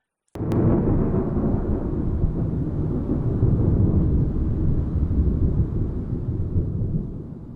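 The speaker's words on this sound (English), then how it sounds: "Then all of a sudden a thunderous sound came from the sky." A deep, sustained rumble of thunder rolls on for several seconds, loud and heavy after a sudden onset, slowly easing at the end.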